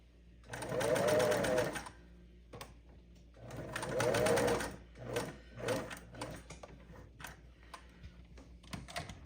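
A sewing machine stitching the raw edge of a stuff sack, two loud sustained bursts of rapid mechanical whirring and clatter, followed by shorter stop-start runs and quiet gaps.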